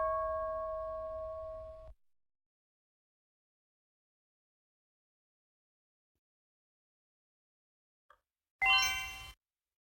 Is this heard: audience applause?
no